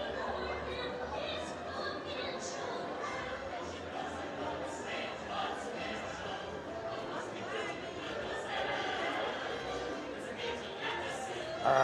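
Dense crowd chatter fills a busy Disneyland park, many overlapping voices murmuring steadily at close to middle distance.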